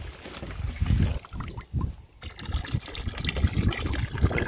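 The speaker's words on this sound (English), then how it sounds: "You can hear the pump struggling to spit anything out." Water sputtering and splashing out the back of an old launch as its weak bilge pump struggles to push out the last of a nearly dry bilge, coming in irregular gurgling spurts close by.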